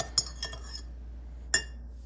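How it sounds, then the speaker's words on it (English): A spoon clinks against a cup while stirring coffee with sugar and cream, with a few light taps close by, a short pause, then one final sharp clink. "So a little sugar, a lot of cream, and we'll give it a stir"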